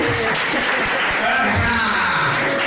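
Guests at a religious wedding keep up a steady, crowded round of clapping throughout, loud and close, mixed with murmuring voices and a little laughter.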